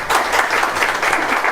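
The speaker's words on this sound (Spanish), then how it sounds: "Un aplauso para ello, por favor." A short burst of close, lively audience applause at an evening cultural gathering in a municipal youth hall, many hands clapping in a dense patter with no talk over it.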